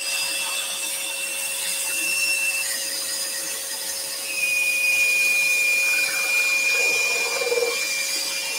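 A scroll saw cuts through wood for a compound-cut candle, a loud steady whir and rasp with a constant hum and a high whine that shifts as the blade works, holding level throughout without talk.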